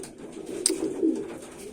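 Soft, low pigeon cooing murmurs close by in a quiet space, a gentle rolling call repeated over a couple of seconds.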